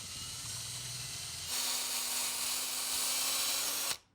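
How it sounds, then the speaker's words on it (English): A drill bores a shallow hole into a guitar body through several protective layers of tape, giving a steady whirring hiss that grows louder partway through before cutting off abruptly. "I'm just going to go as shallow as I can drilling this hole"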